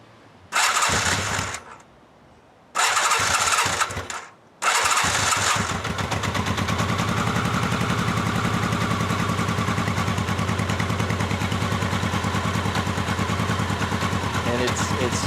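A 1983 Honda Nighthawk 650 motorcycle, run with the choke on, cranks in short bursts with pauses, then catches and settles into a steady, even idle close by.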